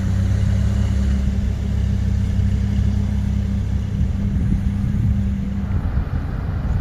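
Lamborghini Huracan Tecnica passing with a steady, loud low engine rumble that holds throughout, no voices over it.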